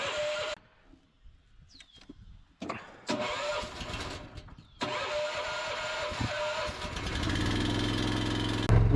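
The engine of a trenching machine cranks and fires after near silence, sputters, then catches and settles into a steady idle close by.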